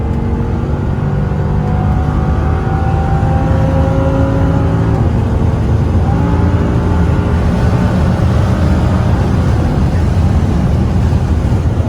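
An Audi R8 V10 drives at high speed, a loud, sustained engine roar with strong low rumble and rising, shifting harmonic tones as it accelerates, with heavy road and wind noise and no voices.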